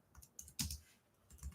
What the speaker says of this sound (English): That's what I'm typing in the chat.